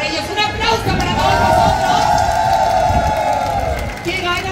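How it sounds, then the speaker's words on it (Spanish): A crowd at an outdoor Pride concert in a town square cheers and claps, a loud swell of whoops and applause with a sustained shout rising through the middle before easing off. "El primer aplauso va a ser para ellos."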